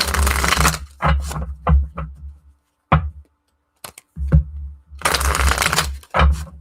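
A deck of tarot cards being shuffled close up in repeated riffling bursts, separated by short pauses and light taps, loud and clear with no talking.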